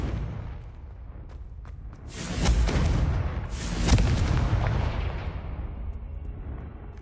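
A Confringo fire spell in Hogwarts Legacy bursts twice into loud, booming explosions about two seconds apart, each rumbling and fading over a low background.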